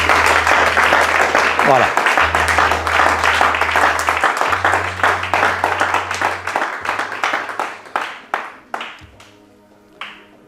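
Warm applause from a congregation at a church service, dense steady clapping that thins toward the end into a few scattered claps, with a voice talking over it and a low held tone running underneath.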